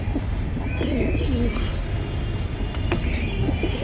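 Pigeons kept for sale coo and warble in soft, rolling calls, with occasional chirps and light clatter over a dense background hum.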